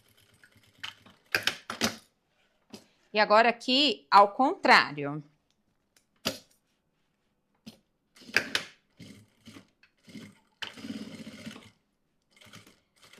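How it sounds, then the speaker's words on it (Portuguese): A sewing machine stitches a zippered cosmetic pouch in short, intermittent mechanical bursts of clatter and whir, with someone speaking briefly between runs. "Agora eu vou costurar fechando todo esse lado"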